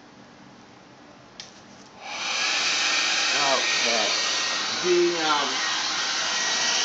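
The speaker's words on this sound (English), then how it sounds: "I'm trying to turn on the blow dryer just a second." A blow dryer switches on partway through and runs with a loud, steady airy roar, with a voice speaking briefly over it.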